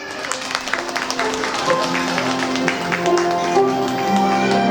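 Applause welcoming the bride and groom at a wedding, a steady crowd clapping that stays full and even throughout, with a host's voice speaking over it.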